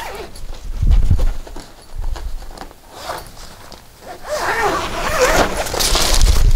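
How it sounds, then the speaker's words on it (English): Two zips on a Gorilla DBS Pro DJ booth carry bag are undone, giving scratchy rasping pulls amid handling rustle and thumps, fairly close. "you've got your two zips which you undo"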